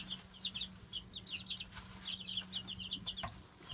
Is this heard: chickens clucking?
yes